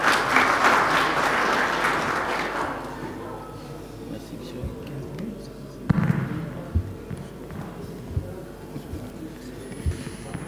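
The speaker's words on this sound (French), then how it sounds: "sous vos applaudissements, s'il vous plaît." Applause from a forum audience welcoming Walid Mazou of the national insurance council to the stage, loud and dense at first, then thinning into scattered claps and thuds as it fades after a few seconds, with faint voices underneath.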